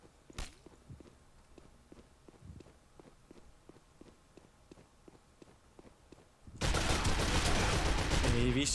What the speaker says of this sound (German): Obwohl ich in Salven schieße, verzieht er einfach.